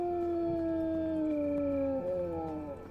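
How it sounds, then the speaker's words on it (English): A zombie dog in the survival game HumanitZ lets out a long, steady, mournful howl that slowly falls in pitch and breaks at the end, loud and alone. "That's one of the zombie dogs, I think."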